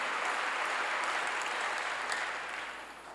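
Church congregation applauding in praise during a sermon, a dense, steady wash of many hands clapping that stays full and loud before easing slightly toward the end.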